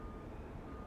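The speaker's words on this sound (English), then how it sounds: "Excuse the beeping." Steady reversing beeps from a backing vehicle sound faintly in the distance at a beach, under a continuous low wash of background noise.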